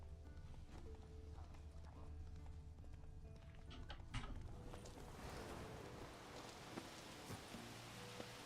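Roach the horse gallops through The Witcher 3 with quiet, steady clip-clop hoofbeats under a rustling outdoor ambience and occasional sharper knocks.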